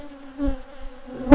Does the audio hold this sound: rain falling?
no